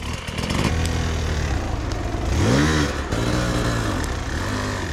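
A dirt bike climbs a hill, its engine buzzing and revving continuously, rising in pitch mid-way and then settling back to a steady drone, fairly loud and close throughout.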